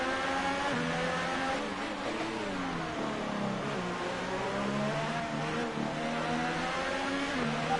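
A Mercedes Formula 1 car in the F1 2018 video game at the Russian GP with DRS open, a continuous high-pitched engine whine that rises and falls as it passes close by, heard alone without talk.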